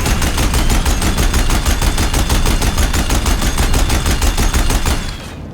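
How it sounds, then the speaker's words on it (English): Deathbringer machines firing their mounted guns in Horizon Zero Dawn, a loud, rapid, unbroken stream of automatic shots for about five seconds before cutting off abruptly into a quieter tail. "If the Deathbringers keep firing"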